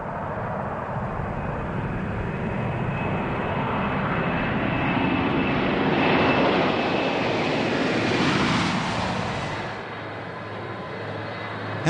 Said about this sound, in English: this giant jet takes to the skies